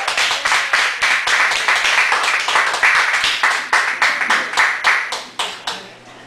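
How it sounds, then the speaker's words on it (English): An audience claps at a poetry reading in a Chicago cafe: a run of sharp, closely spaced hand claps, fairly near and loud, that thins out and fades toward the end. "please give me the hugest round of applause for Charlotte Hart"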